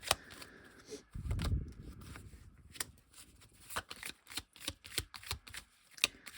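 Tarot cards being shuffled by hand, a run of crisp riffling flutters and dry papery snaps, close and quiet, with one louder soft rustle partway through and no talking.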